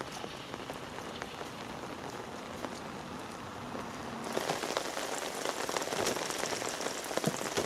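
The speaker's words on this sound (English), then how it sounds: "Well, it has rained non-stop today" Steady rain pattering on surfaces outdoors on a day of non-stop downpour, with scattered drops throughout and the rainfall growing louder and denser partway through, heard alone without talk.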